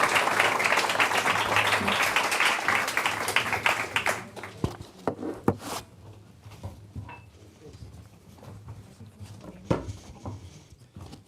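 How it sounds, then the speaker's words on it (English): Applause from a conference audience at the close of a panel session, a dense, loud patter of clapping for about four seconds that thins into scattered claps and fades under low room noise. "Round of applause, please."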